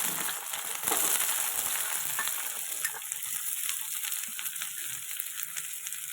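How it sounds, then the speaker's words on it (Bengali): Chopped beans, carrot and cabbage fry in mustard oil in a wok, a soft continuous sizzle with faint stirring scrapes, fairly quiet and with no voices. "তারপরে ওই কড়াই দিয়ে দেবো সর্ষের তেল আর কেটে রাখা সবজিগুলোকে ভেজে নেব"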